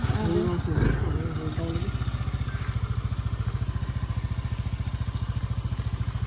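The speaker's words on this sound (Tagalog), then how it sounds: "Naana ato ang motor." A motorcycle engine idles close by with a fast, even putter that holds steady throughout, while people talk over it briefly at the start.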